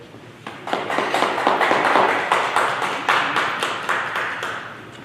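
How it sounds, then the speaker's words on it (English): Applause after an honoree is recognised at an East Orange City Council meeting: a steady patter of many hands clapping together, rising quickly, holding for several seconds and tapering slightly, with no talk over it. "an applause for you is correct"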